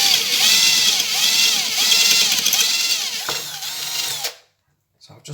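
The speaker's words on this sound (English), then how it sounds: "and we're just going to drill." A very large power drill whines loudly as it bores a hole for the aerial of a Roberts R747 radio, steady high pitched pulsing for about four seconds, then stops, followed by faint handling noise.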